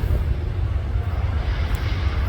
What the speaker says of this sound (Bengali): থাই এয়ারলাইন্স ল্যান্ডিং মুভমেন্ট আপনারা দেখতেছেন যে বিমানটি একমাত্র এইমাত্র ল্যান্ডিং করতেছে করছে